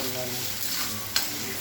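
Green chillies frying in oil over a low flame for a quick pickle, a steady close hiss and crackle with a brief sharper sizzle burst partway through.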